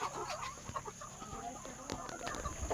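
Egg-laying chickens at a poultry farm clucking, several birds close by making overlapping irregular clucks and calls over steady background hum.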